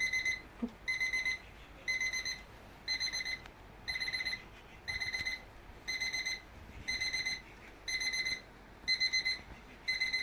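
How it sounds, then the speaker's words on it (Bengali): An alarm clock rings in repeated short bursts of bright electronic beeping, about ten bursts evenly spaced with brief gaps, fairly close with no voices. "3টে অ্যালার্ম বাজছে, দেখছেন।"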